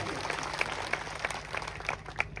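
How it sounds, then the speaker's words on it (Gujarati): A crowd at an outdoor political gathering in a Gujarati village claps for the police officers on duty, a dense burst of close applause with distinct sharp claps standing out over a murmuring audience. "એમના માટે પણ જોરદાર તાળીઓ પાડી લો"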